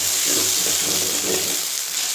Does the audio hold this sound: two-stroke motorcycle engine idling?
no